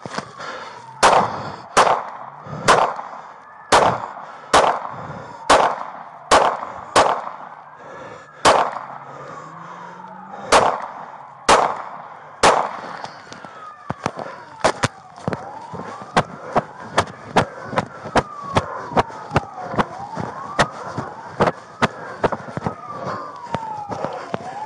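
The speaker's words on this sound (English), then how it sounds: "Shots fired! Shots fired!" Rapid sharp gunshots ring out during a police pursuit in Muskogee, a burst of about a dozen loud cracks followed by a faster volley, with a police siren wailing and sweeping underneath.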